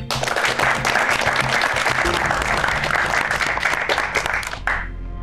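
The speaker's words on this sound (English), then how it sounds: "So I think you deserve to give yourselves and everyone else a round of applause." A room full of junior bakers and judges at a cake-baking competition break into a sustained round of applause, dense steady clapping lasting several seconds before tapering off at the end.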